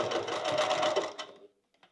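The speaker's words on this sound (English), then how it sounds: "Then I'm going to pivot, do 1 stitch over, and then come back down the other side." A sewing machine stitches a crossbody bag in a quick, even whirring run of about a second and a half, then stops with a few faint clicks.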